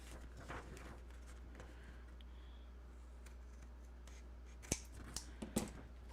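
Scissors cut through a paper tag with a few quick, faint snips close by, set against a steady low hum.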